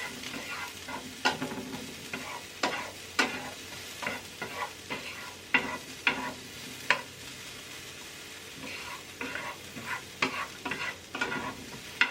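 Onions and garlic sauté in a hot pan for a vegan tofu scramble, giving a steady sizzle broken by frequent scraping stirs and clacks of a utensil, close and fairly loud, with no talking.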